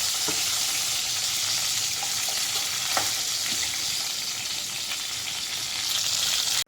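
Steady, loud sizzling and crackling of brinjal pieces frying in hot oil in a pan, with a few louder pops and no talking.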